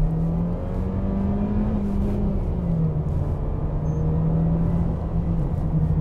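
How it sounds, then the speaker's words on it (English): Engine of a 2019 Mercedes-Benz A-Class accelerating downhill, heard from inside the car as a steady droning hum with a slowly wavering pitch, continuous and moderately loud, no talk. "This is not the kind of sound you want to hear from any engine, and especially an engine in a Mercedes."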